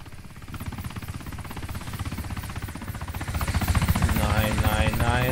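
A helicopter's rotor thrums steadily beneath loud overlapping DayZ Origins game noise and a talking voice, growing slightly louder toward the end.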